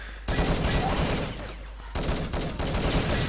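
Sustained bursts of LR300 rifle fire in a competitive team-based shooter tournament match, two long loud volleys separated by a brief break, dense and continuous like automatic fire.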